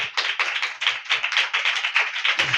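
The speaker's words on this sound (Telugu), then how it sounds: "చప్పట్లు కొట్టండి ఒకసారి గట్టిగా" A church congregation clapping loudly in unison, a brisk, even run of sharp claps lasting a few seconds, close and dense with no voices.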